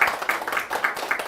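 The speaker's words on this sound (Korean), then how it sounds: "감사의 박수를 부탁드립니다" Audience members at a forum luncheon clap in thanks. The hand claps are moderate and uneven, with quick pulses that rise and fall.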